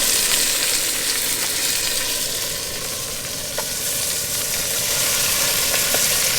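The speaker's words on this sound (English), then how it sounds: "Let them just sizzle away." Crayfish tails with salt, pepper, Italian herbs and plenty of butter sizzle and crackle steadily in a pan at a beach campsite, loud and close with a few small pops.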